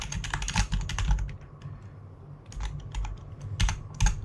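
Rapid clattering keystrokes on a computer keyboard while entering a search on an in-game market board in Final Fantasy 14, two close bursts of typing separated by a brief pause.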